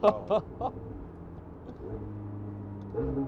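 A McLaren 720S Spider's flame-spitting exhaust fires three sharp, loud bangs in quick succession, then settles into a steady, droning engine note.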